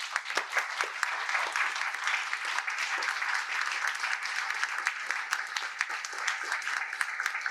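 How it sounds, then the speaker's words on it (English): A crowd at a Lihue Business Association meeting on Kaua'i claps for several seconds in dense, sustained applause that holds steady and fairly loud throughout. "I brought the cheering crowd"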